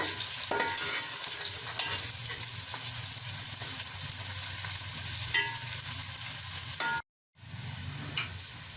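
Ingredients for matar polao fry and brown in a pan, a steady close sizzle with occasional stirring clicks, then a brief cut to silence before the frying resumes; no voices.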